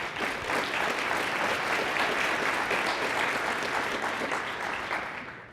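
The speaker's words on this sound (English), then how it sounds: "So give yourselves a round of applause." A conference audience applauds together in a large hall, with dense, steady clapping that holds evenly for several seconds and then fades at the end.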